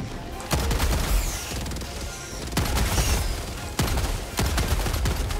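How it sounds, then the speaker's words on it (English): A fire shotgun blasts in Helldivers 2, several booming shots spaced irregularly over a steady roar of battle noise, each a loud, sharp burst. "The fire shotgun's okay."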